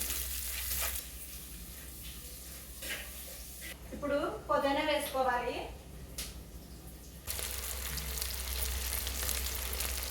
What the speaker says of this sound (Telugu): ఇప్పుడు ఉల్లిపాయ వేసుకోవాలి వేగనివ్వాలి